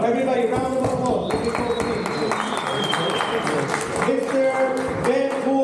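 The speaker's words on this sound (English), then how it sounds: "Everybody, round of applause" Steady audience applause and clapping for a graduate at a Siyum Mesechta ceremony, a dense sustained crowd sound lasting throughout with voices mixed underneath.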